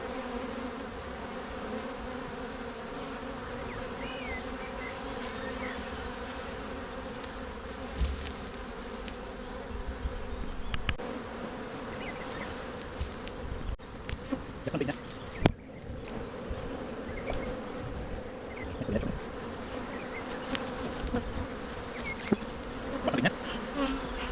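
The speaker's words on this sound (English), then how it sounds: "there are a lot of bees in here" Dense, steady buzzing of a honey bee colony in an open hive during an inspection, loud and close throughout with a few brief knocks and handling sounds.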